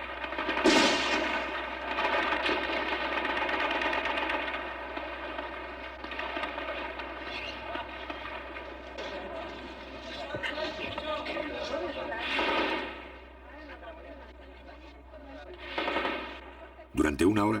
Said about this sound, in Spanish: los tanques intercambian disparos con los carabineros de la Guardia Presidencial